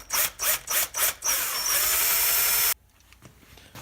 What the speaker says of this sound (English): Let's get the drill, and then we can make a little hole